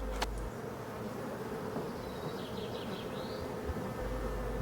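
A hive of honey bees hums in a steady, dense buzz throughout, with individual bees droning close by during the transfer of frames into a larger Voirnot hive body in a French apiary in late June.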